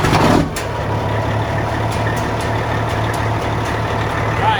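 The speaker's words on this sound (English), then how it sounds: "first start up on our new industrial injection 467 Forged mill wheel turbo" A cabover semi truck diesel fitted with a new Industrial Injection 467 forged mill wheel turbo idles loudly just after startup, producing a steady rumble with a brief surge at the start and a faint whine.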